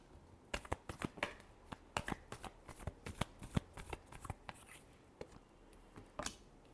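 Tarot cards are riffled and shuffled in a quick, irregular run of crisp slaps and flutters, fairly close and moderately loud, with no voice over them.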